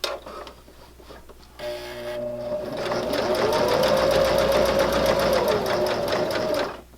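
A sewing machine stitches a fabric silverware pocket, starting with a brief whir, then running in a steady, fast, rhythmic clatter for several seconds before stopping abruptly.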